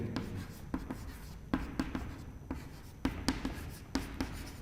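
Chalk or marker strokes on a board during a history lecture, with quick tapping and scratching bursts in irregular clusters, close and fairly loud with no talking.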